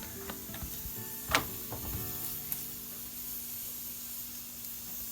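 Soft steady sizzle and hiss of a gobi paratha cooking on a hot iron pan, with a few faint taps and crackles early on over a low continuous fry.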